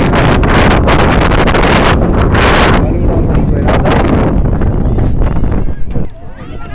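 Heavy wind buffets the microphone, a loud blustery roar that rushes in gusts, with a voice speaking beneath it.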